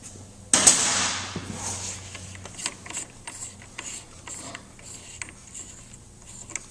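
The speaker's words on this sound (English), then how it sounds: "you will loosen the top nut" Close metallic ratcheting from a 7/8 wrench loosening the top nut on the handlebars of a 2015-or-newer Harley-Davidson Road Glide, opening with a sharp clank and followed by a run of light, irregular clicks.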